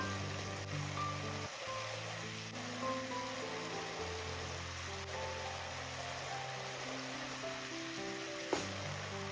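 A steady low bubbling and rolling hum of water boiling in a pot for cooking rice, continuous and moderately quiet.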